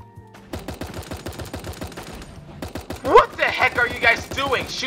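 Rapid dart gun fire in the cartoon battle royale game Super Animal Royale, a fast even train of sharp clicking shots that continues throughout, followed by excited talk and more hits near the end.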